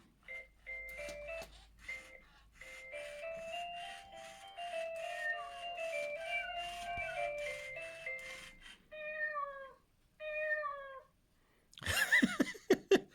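A Power Kitty Jr remote control robot toy kitten gives out a long run of electronic, tuneful meow-like chirps, then a few separate higher synthetic mews, then a brief burst of noisy rattling, all close and fairly quiet.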